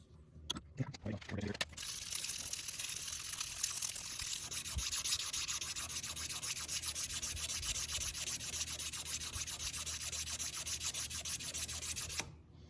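A custom 1911 pistol's feed ramp and barrel throat being polished, a steady rapid rubbing, whirring abrasion that runs continuously for about ten seconds after a few brief knocks.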